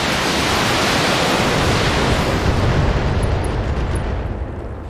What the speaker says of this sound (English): I'm gonna launch a partial volley of missiles.